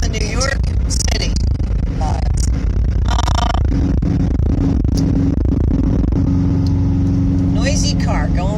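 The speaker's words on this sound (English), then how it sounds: "Noisy car going by." A noisy car drives through busy Times Square in New York City, its engine rumbling loudly beneath crowd noise and people talking nearby.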